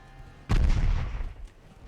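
Naval gunfire lands in the Ultimate Admiral Dreadnoughts warship game: a single loud, deep boom hits suddenly and rolls off into a rumbling tail that fades over about a second.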